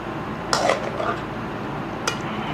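Spoon mixing yogurt into potato raita in a bowl, two brief clinking scrapes with a soft squishy stir between, close and moderately loud over a steady background hum.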